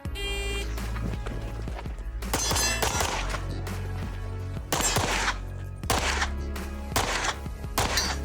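Rapid pistol shots from an open race gun at a timed shooting course, several loud sharp bursts of quick fire separated by short pauses.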